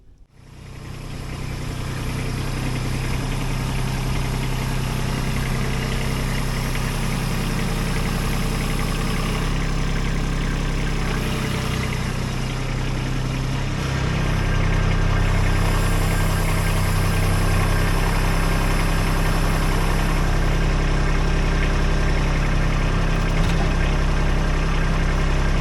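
Kubota B2601 compact tractor engine idling in a meadow before hooking up a Bush Hog mower, a steady low rumbling drone that grows slightly louder halfway through, with no voices.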